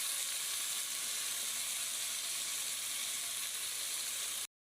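Vegetables for ginataang gulay sizzling steadily as they fry in a pan, a dense continuous hiss with faint scraping from stirring, cutting off abruptly near the end.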